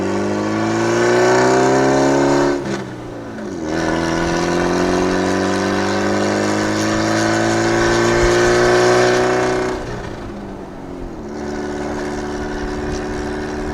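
A Meyers Manx beach buggy's small 1600cc engine drones steadily and loud, its pitch rising as it accelerates, dipping briefly, then climbing again while driving along.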